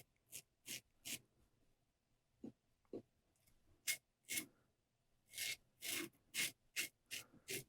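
A Fatip Piccolo Storto slant open comb safety razor scrapes across stubble in short, rasping strokes, irregularly spaced, close and crisp against a quiet background.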